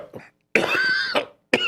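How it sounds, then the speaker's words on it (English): A man clears his throat twice, close to the mic, with a short rasp, then a longer gravelly clearing with a voiced tail, and a final brief cough-like hack after a pause. "Sorry, let me clear my throat."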